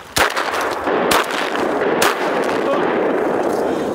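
Shotgun blasts during a waterfowl hunt for ducks such as black ducks, mallards and teal in New Brunswick: three sharp, loud shots spaced about a second apart, ringing over a steady outdoor wind-like background.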